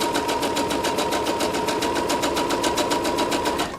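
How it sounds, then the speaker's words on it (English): A sewing machine runs steadily while stitching forward and backward, a fast even mechanical chatter of needle strokes with a constant motor hum, close and uninterrupted for several seconds. "So I'm going to take a couple of stitches forward. And a couple of stitches backwards."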